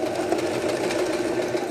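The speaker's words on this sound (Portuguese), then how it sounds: "Eu vou usar só costura reta" Sewing machine running a straight stitch on a knit children's bomber jacket, a steady close motor hum with fast rhythmic needle clatter, alone.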